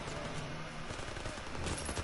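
Continuous gunfire in a World War II campaign video game, a dense, steady fusillade of rapid shots and bursts from several weapons at once, loud and filling the whole stretch without pause.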